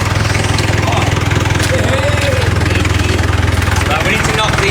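An engine runs steadily in a scrap yard, a loud, close, continuous idling throb with a regular low pulse, with voices speaking over it.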